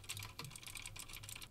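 Clicky Cherry MX Blue mechanical key switches are typed on rapidly, picked up through a Samson Q2U dynamic microphone over USB, a steady stream of crisp keystrokes at quiet level with no talking.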